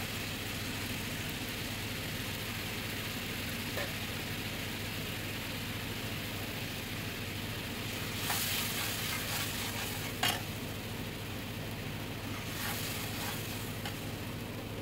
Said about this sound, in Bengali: দিয়ে এবার এটাকে ভালো করে আমি একটু কষিয়ে নেব।